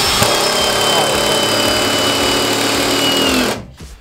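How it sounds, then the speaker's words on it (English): Drill or impact driver driving screws into a wooden stud, a steady loud motor whine with rattling continuing for several seconds, then cutting off abruptly, close up with no talk. "Let's screw these both in to the Dwang"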